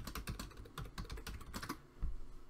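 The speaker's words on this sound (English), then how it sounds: "I'm not very good at talking and typing at the same time." Rapid clicking of keys on a computer keyboard while logging in as root on a Linux system, a steady run of close, crisp taps lasting the whole stretch with a brief pause near the end and no talking.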